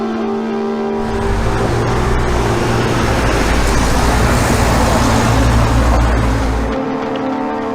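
A vehicle drives along a desert road in Nevada, its engine and tire roar forming a steady, loud drone throughout, with no talk.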